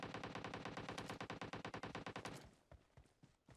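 Rapid automatic gunfire in PUBG Mobile: a fast, steady burst of loud, close shots for about two and a half seconds, then a few scattered, fainter single reports.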